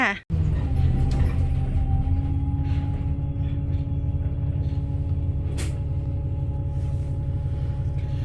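A city bus pulls up to a stop with a low engine rumble and steady drone, a brief hiss like an air brake and door partway through, near and loud.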